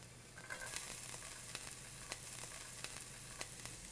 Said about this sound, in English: we're going to use our ears to hear the sizzle when we add this